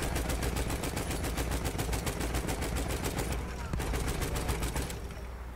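Turret machine gun in the Battlefield 1 video game fires in a long, rapid, evenly spaced burst, loud and continuous, pausing briefly before resuming and then tapering off.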